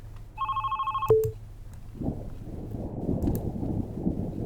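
A telephone rings in the horror video game Love, Sam: a few bright electronic rings, then a click as it is picked up, followed by a low windy rumble.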